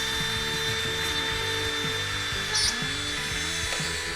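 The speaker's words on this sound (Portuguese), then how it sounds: "você vai pegar uma furadeira ou uma micro retífica e vai fazer um furo nesse local aqui da placa" A small electric drill or rotary tool bores a small hole in a printed circuit board, giving a steady high-pitched whine with a fluctuating motor tone throughout, close and moderately loud, with no talking.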